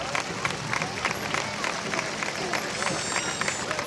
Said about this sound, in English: And John, listen to the hand they're getting from the crowd.